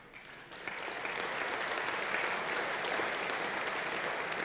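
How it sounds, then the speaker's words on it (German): Dense, even applause from an audience at a Swiss SVP party delegates' assembly in Klosters swells in after about half a second and holds steady and full to the end, with no talk over it. "Dieser Applaus gehört Ihnen selbst"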